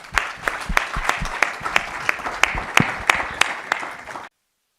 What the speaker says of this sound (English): Please join me in giving him a big round of applause.